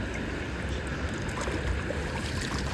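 Water pours and splashes steadily while slippers are being washed, a continuous close rushing wash for the whole stretch with no talk.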